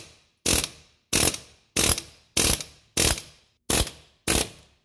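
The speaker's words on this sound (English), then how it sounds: "so we're just gonna hammer the nut and stud predominantly instead of the spindle" Seven sharp, evenly spaced metallic hammer blows strike the ball joint nut and stud of a 2006 Nissan X-Trail's lower control arm, each a loud close impact with a brief ringing decay and silence between hits.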